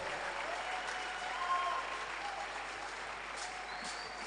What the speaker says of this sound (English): I thought you would give a wonderful round of applause.